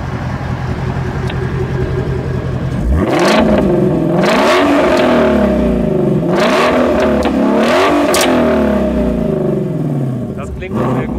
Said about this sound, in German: Dann hören wir uns mal den Auspuff an, wie der so klingt.